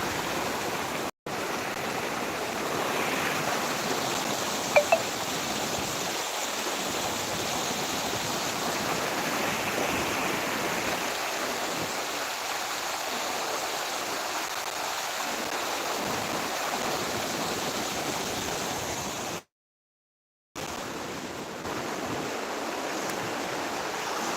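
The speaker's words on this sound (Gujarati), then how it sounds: "જો આવું પાણી જાય છે" Water flows and rushes steadily in a broad, continuous hiss, with one brief dropout near the end.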